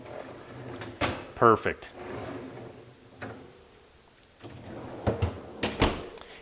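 A refrigerator's freezer drawer on wheels is slid back and forth, producing a few short rolling rumbles and soft knocks at close range, with speech in between.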